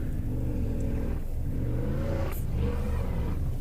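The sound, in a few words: rally car engine revving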